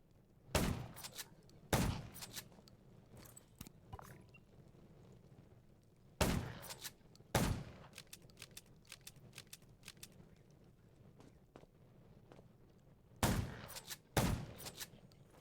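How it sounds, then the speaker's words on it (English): Sharp gunshots crack out in pairs, with long pauses between bursts, over a quiet background of faint clicks and ambience, in the zombie video game Undawn. "Gunshots will attract more."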